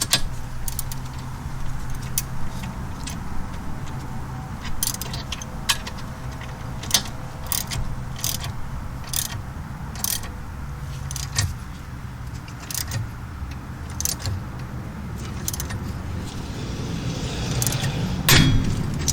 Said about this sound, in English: take a 5/8 ratchet, and keep tightening until it pops out